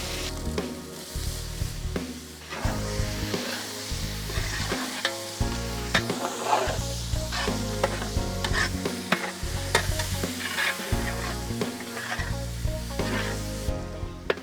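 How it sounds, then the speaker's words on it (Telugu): Tomato pieces frying in hot oil with spices and onions for a chicken Patiala curry, a steady close sizzle broken by repeated scraping stirs of the pan, with no talking. "మసాలాలన్నీ నూనెలో చక్కగా వేయించాక దీంట్లోనే మనం టమాటో ముక్కలు యాడ్ చేద్దాం."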